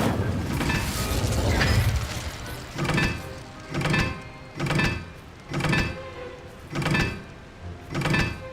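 Incendio fire spell cast repeatedly in the Hogwarts Legacy video game, a series of six evenly spaced whooshing bursts about a second apart following an opening rumble, loud and close with no talk.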